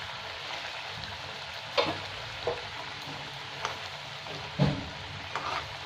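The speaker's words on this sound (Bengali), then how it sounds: "এখানে ঝোলটা আমার ফুটে গেছে, এবার আমি মাছগুলো" Small fish go into a boiling, spicy mustard-style gravy for chhoto maacher jhaal, bringing a bubbling, frying hiss with a few sharp clinks and scrapes from a utensil against the pot.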